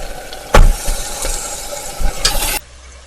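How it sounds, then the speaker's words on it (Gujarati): Marinated mutton dropped into onions frying in ghee sets off a sudden loud sizzle that hisses steadily, with a clattering stir midway, before cutting off abruptly. "ઓનિયન સરસ ફ્રાય થઈ ગઈ છે ત્યારે આપણે જે મટનને મેરિનેટ કર્યું હતું એ એડ કરીએ"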